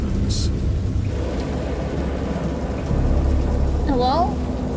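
A thunderstorm in the horror game Dagon: loud, steady rain hiss over a deep, continuous rumble, with a brief wavering voice-like cry near the end.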